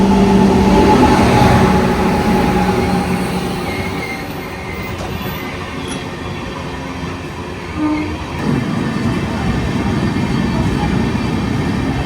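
The Jayanthi Express arrives at Kottayam station with a loud, close rumble of rail wagons, sustained horn tones at the start, and rolling wheel noise that carries on steadily throughout.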